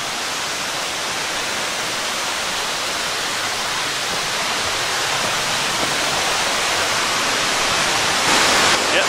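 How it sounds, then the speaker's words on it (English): Cottonwood Falls, a large waterfall in Worlds End State Park, Pennsylvania, roars as a steady, loud, unbroken rush of falling water close by, with no other sounds. "Starting with the big one, Cottonwood Falls."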